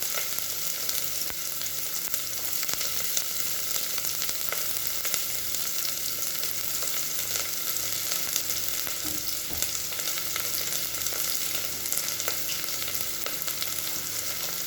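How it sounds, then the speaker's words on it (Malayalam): Carrot, onion and dal sauté in ghee in a pan for dal khichdi, giving a steady, even sizzle with faint stirring scrapes. A quiet music bed runs beneath, and no one speaks. "സവോളയും കൂടെ ഇട്ട് നമുക്ക് നല്ലതുപോലെ ഒന്ന് മിക്സ് ആക്കി കൊടുക്കാം."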